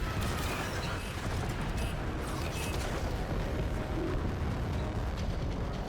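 Sci-fi weapon fire in Warframe, a dense, sustained barrage of booming blasts and mechanical clatter, loud and continuous with crackling high bursts throughout.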